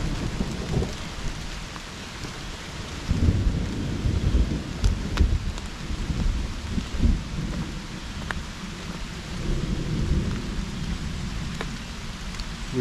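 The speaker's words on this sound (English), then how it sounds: "We officially have a thunderstorm." A thunderstorm breaks during an outdoor hike, with steady rain pattering on surfaces and repeated low rolls of thunder swelling through the downpour, close and fairly loud, with no talking.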